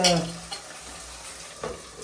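Tomatoes fry in a pan for a mustard greens (saag) tadka, giving a soft, steady sizzle with a few scraping stirs and light utensil clinks at the start and end.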